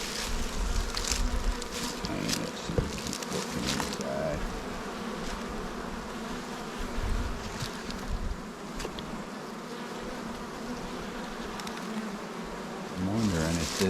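Honeybees buzz steadily and densely around an open hive, a continuous close insect drone that swells slightly toward the end, with a faint voice in the background.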